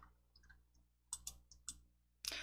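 A computer mouse clicks faintly at close range while working in a PowerPoint slide, several short sharp clicks spaced irregularly against a quiet background, with no talking.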